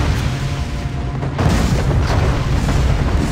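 Cannons boom during a castle defense battle in the online game ArcheAge, a heavy low rumble that swells sharply partway through and holds as a dense, loud roar.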